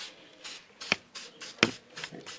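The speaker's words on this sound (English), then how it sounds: "Again, a nice light spray." Light bursts of spray onto a carved cedar layout template, a rhythmic series of short soft hissing puffs with two sharper taps among them, close and quiet, no voices.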